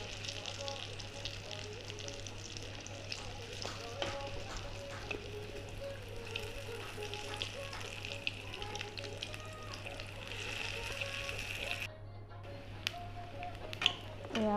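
Fritters frying in a pan sizzle with a steady, fairly quiet crackle and hiss, broken by occasional light scraping taps of stirring, with a low hum underneath.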